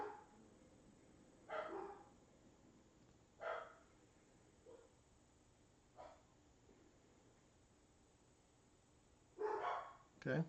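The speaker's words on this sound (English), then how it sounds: "I apologize for my dogs barking." Dogs bark in the background of a room, several separate short bursts spaced a couple of seconds apart, fairly faint and distant, with a brief spoken word.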